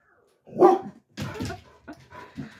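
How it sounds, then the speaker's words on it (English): Dogs barking indoors in a home kitchen, a few loud, close bursts separated by short gaps, with some whimpering yips mixed in. "The dogs sometimes hear the coyotes out back, and then they go crazy."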